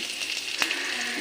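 Bay leaf and chopped onion frying in hot oil for a tempering, a dense steady sizzle up close with one sharp pop partway through.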